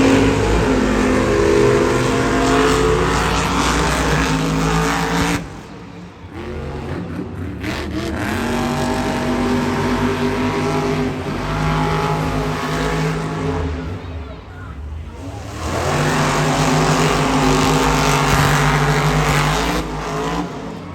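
Monster trucks race at the Monster Jam World Finals, loud engines roaring and revving almost continuously, with a brief dip midway as they pass, under faint crowd and announcer noise.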